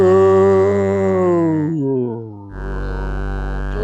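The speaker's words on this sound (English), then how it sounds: "So the second oscillator is an octave down, as you can hear." A fat, rich synth bass with its second oscillator tuned an octave down, sliding and held in close, loud sustained notes, with a deep low tone swelling in during the second half.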